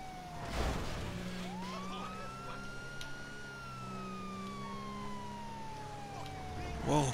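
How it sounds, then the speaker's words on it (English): Police car siren in Grand Theft Auto V wails in a long rising and slowly falling sweep over engine hum, with a short yelp burst at the end and a voice talking briefly over it. "We'll put the sirens on to make people move out of the way."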